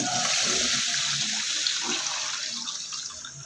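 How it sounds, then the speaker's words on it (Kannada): Water poured in a full, steady gush into a vessel of washed rice set to soak for Coorg-style thatte idli, a close, loud rushing splash that tapers slightly toward the end. "ಇವಾಗ ಇದಕ್ಕೆ ಫುಲ್ ನೀರು ಹಾಕಿ ಇಡೋಣ"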